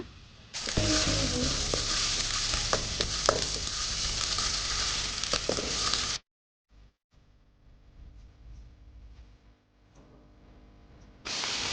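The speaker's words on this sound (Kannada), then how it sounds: "ಶುಂಠಿ ಬೆಳ್ಳುಳ್ಳಿ ಪೇಸ್ಟ್ ಹಾಕೋಣ." Ginger garlic paste hits a hot pan on a wood-fired stove and sizzles loudly and steadily for about six seconds, then the frying drops away to a faint crackle before surging again.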